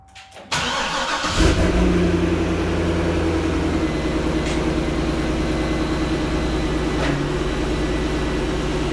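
A Chevrolet LS3 V8 in a C6 Corvette fitted with a Halltech intake cranks briefly and fires up, then settles into a loud, steady, lumpy idle that carries on without pause.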